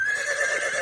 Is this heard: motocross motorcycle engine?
no